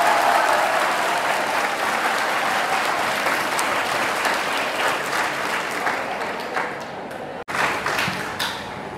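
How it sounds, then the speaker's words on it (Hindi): Dense, sustained audience applause fills the hall at a Hindi comedy or motivational talk, steady and loud throughout with a sharp brief dip near the end before clapping resumes. "तालियां कमजोर है मेरे बच्चों की"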